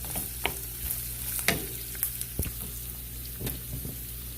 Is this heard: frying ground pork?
yes